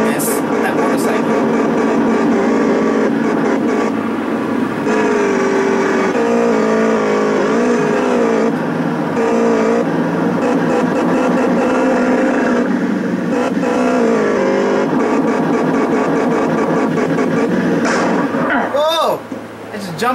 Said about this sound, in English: doing the wheel bonus on that motorcycle